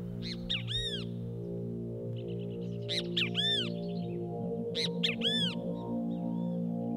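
Highland birds call in three bursts of sharp, rising chirps and short squawks, fairly near, over a steady low drone.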